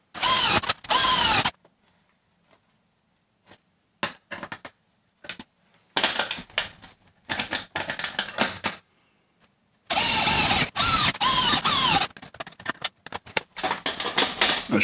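A power drill whirs loudly in several bursts, driving stainless self-drilling sheet metal screws, spinning up and stopping between quieter pauses filled with faint clicks and handling noise.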